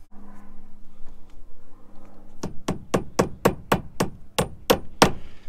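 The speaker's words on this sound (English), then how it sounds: "Just use a couple of roofing nails just to tack it" Hammer blows drive roofing nails to tack down standing seam metal roofing, about ten sharp, evenly spaced strikes close by and loud, following a low hum and a few faint knocks.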